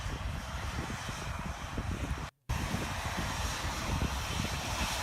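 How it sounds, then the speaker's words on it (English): A jet engine blasts at full power during takeoff, a loud, steady roar with wind buffeting that fills the whole clip apart from a brief cut to silence. "Why are they standing so close to a jet taking off?"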